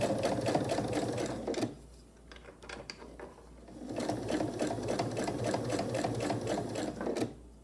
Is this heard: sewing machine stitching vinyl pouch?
yes